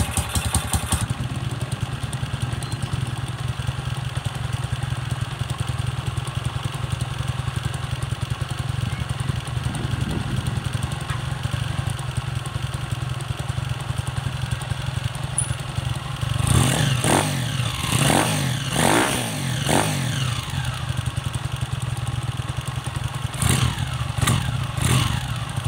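A Honda TMX 125 motorcycle engine with a freshly tuned stock carburetor idles steadily up close, then revs several times in quick bursts before settling back to idle.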